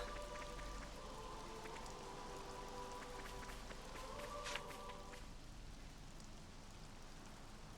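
Steady rain falling in Xenoblade Chronicles 3, a soft continuous patter with faint game tones and a few light footfalls beneath it, quiet and without speech.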